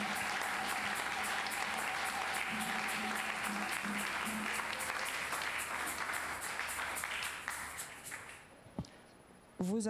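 Sustained, dense audience applause fills a church gathering, loud and even with rhythmic clapping throughout, then quickly thins out and fades near the end.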